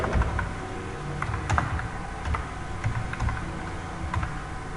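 Rapid keystrokes clatter on a computer keyboard as code is typed, a close, continuous run of clicks with no talking.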